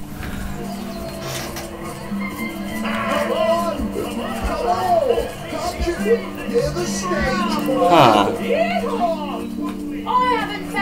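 Legionnaires in Divinity: Original Sin shouting at the player, with several overlapping yelling voices and crowd murmur swelling in bursts over a steady game background, loudest around the middle and near the end.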